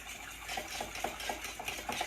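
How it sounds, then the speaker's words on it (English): A fork whisks eggs and skim milk in a bowl, quick regular clinks and scrapes repeating about four times a second, close and fairly loud with no talking. "you can just get a fork or a whisk or anything you want to mix these up"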